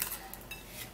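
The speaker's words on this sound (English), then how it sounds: "So now after this is done, we're going to be mixing this all up." Spoon mixing a skin-lightening paste in a bowl, brief close clinks and scraping of metal against the bowl over about a second, quiet and with no talking.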